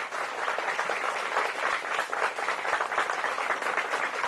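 Mourners at a funeral in Rocinha, Rio, clap in a sustained, dense round of applause, close and even throughout.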